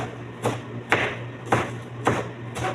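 Carrots being finely chopped with a knife, sharp cutting strokes landing about every half second against a steady low hum, fairly close and with no talking.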